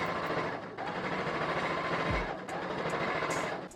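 A sewing machine stitches a witch Halloween cosplay costume, running in a close, steady whir that breaks off briefly before resuming, as if pausing to pivot at a corner.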